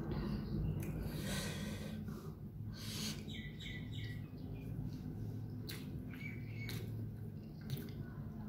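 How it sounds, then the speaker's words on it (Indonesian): Birds calling outdoors in a noisy neighborhood, scattered chirps and short calls standing out faintly over a dense background of broadband hiss and distant activity, with no speech. "suara burung"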